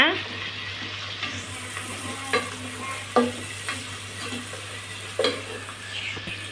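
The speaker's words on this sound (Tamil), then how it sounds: "ஒரு பச்சை மிளகா ரெண்டு தக்காளி மல்லிப்பூ நான் கொஞ்சம் சேர்த்துக்கலாம் நல்லா வதக்கிக்கிங்க" Green chili and tomatoes being sautéed and stirred in a pan for mutton gravy, a steady close sizzle broken by occasional spatula scrapes, with a constant low hum underneath.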